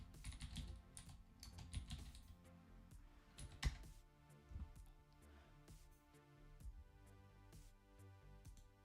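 Typing on a low-profile computer keyboard: a steady, uneven run of close, crisp key clicks with one louder strike partway through, all without speech.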